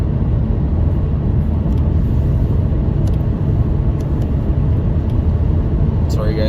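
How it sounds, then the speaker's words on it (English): Steady, loud low rumble of engine and road noise inside a moving car, continuous throughout, with faint clicks near the end. "driving the wife's car"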